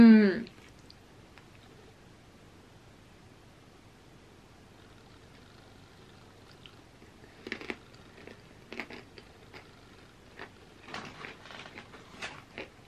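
Pretzels dunked in a vegan cheesy pizza dip or cookie dough dip are chewed close to the mic at a mukbang, with soft crunches that come in scattered bursts after a brief sound at the start.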